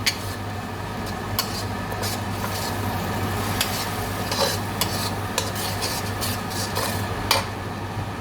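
Spiced red capsicum curry sauce with turmeric cooks in a pan, giving a steady close sizzle broken by frequent scraping stirs.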